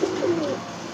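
A tournament pigeon gives a single soft, throaty coo up close, brief and low over quiet background.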